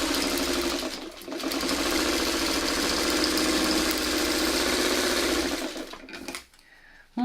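Sewing machine stitching quilt block pieces, a fast rapid mechanical rattle running loud and steady for several seconds before slowing and stopping.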